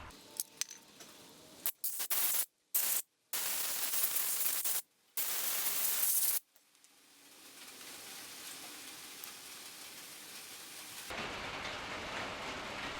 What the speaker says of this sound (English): That noise in the background is rain on the metal roof.